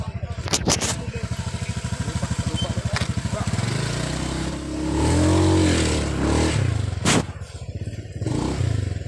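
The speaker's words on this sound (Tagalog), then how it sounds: "Ang dami. Ang daming motor." Motorcycle engines idle and rev close by among a crowd of many motorbikes on a road trip to Daranak Falls, a loud rhythmic putter with one engine rising and falling midway, and people talk over it.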